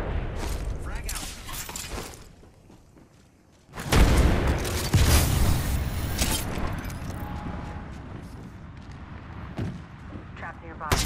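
A frag grenade goes off in Apex Legends with a sudden loud boom after a quieter stretch, then rubble and debris scatter while voices call out around it.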